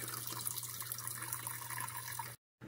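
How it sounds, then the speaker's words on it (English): Water runs steadily from a tap, a close, even gush filling a pot of meat for cabbage soup, then cuts off abruptly near the end. "we're going to cover it with water"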